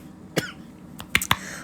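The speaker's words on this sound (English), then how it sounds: "Tried my hardest not to cough, but it didn't work." Several sharp coughs from a person, one isolated cough followed by a quick cluster of two or three, close and fairly loud against a quiet room.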